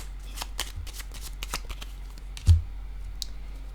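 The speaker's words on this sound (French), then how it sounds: "je vais piger une autre carte" Cards slide and riffle softly as one is drawn from a deck, a run of light close flicks and shuffling taps with a single louder thump.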